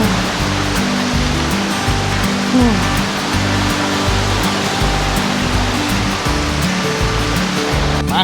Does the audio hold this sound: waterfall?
yes